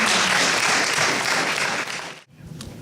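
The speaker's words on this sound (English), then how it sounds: "join me in a round of applause" An audience at a Round Lake area candidate debate applauds in a loud, dense wash of clapping that fills most of the stretch, then cuts off abruptly near the end, leaving a brief quieter tail.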